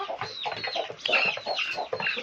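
Chickens cluck in a busy backyard flock, with a rooster among black hens and chicks, their short overlapping calls coming steadily and fairly close with no talk.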